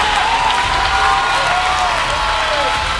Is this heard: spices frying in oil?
no